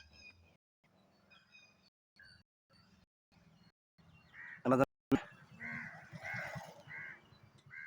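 Several harsh crow caws ring out close by in quick succession, preceded by quiet, intermittent voices and background murmur.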